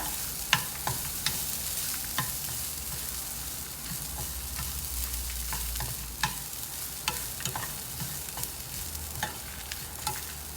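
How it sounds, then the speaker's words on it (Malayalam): Grated coconut sautéing in a pan for a brinjal pitla recipe, a steady soft sizzle broken by light, irregular scrapes and taps of a spoon stirring, close and moderately quiet, with no talking. "ഒരു പിടി തേങ്ങ ഇട്ടിട്ട് നന്നായിട്ട് വഴറ്റുക"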